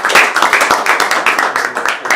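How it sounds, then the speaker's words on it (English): Audience at an IEEE Internet of Things management workshop session clapping, a brief burst of dense, close applause with quick irregular claps throughout. "I think we give again an applause to"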